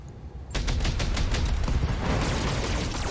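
Mech weapons firing in BattleTech, a dense sustained barrage of rapid overlapping shots and impacts that starts abruptly after a short quiet lead-in and holds loud and steady to the end.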